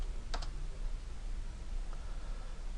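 Keys clatter on a computer keyboard as a short burst of typing near the start while entering values in design software. A single softer click follows later, over a steady low background hum.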